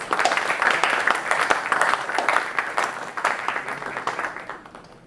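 A studio audience at a film festival panel discussion claps in a dense, steady round of applause that carries on for about five seconds before starting to thin out, with no voices over it.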